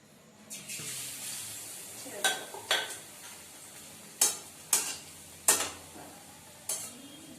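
Battered pumpkin fritters in gram flour batter go into hot oil for deep frying, a steady low sizzle broken by several sharp clinks and splashes of utensils against the pan, fairly close.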